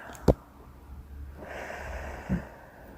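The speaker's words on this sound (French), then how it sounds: "Et j'active cette capacité dans une profonde inspiration. J'inspire. Et j'expire." A slow, deep breath drawn in and then let out during a guided relaxation exercise: a brief sharp nasal sniff, then a long soft rush of air that swells and fades, close and quiet with no talking.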